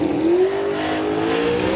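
A drag race car from an Outlaw 275 class sits on the start line building boost, its engine droning steadily with a rising whine climbing in pitch, fairly loud and close, with no talk over it.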